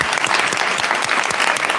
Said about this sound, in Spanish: Le queremos dar un aplauso también.